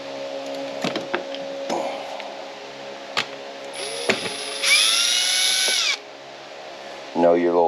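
A power driver fitted with a small 1/4-inch nut driver bit runs a screw while working on a 2005 Club Car Precedent golf cart. A few short zips are followed by a steady, close whir of about a second, then it stops.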